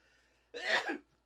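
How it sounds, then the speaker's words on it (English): A single short sneeze, close and fairly loud, bursting out after a faint quiet lead-in and ending abruptly. "I have to sneeze."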